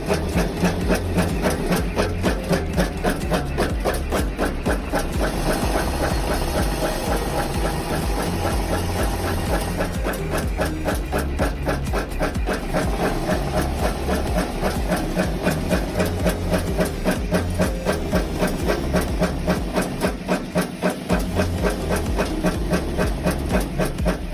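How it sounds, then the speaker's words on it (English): A screw thread rolling machine in a screw manufacturing workshop running continuously, a loud, fast, even mechanical clatter with rapid repeating knocks over a steady hiss and hum, close and unbroken throughout. "Step 2. Through the screw rolling machine."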